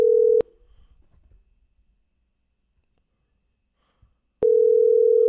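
Steady telephone dial tone on a line calling back a radio show caller, loud and continuous at the start, then cut off into near silence with faint rustle before the tone returns.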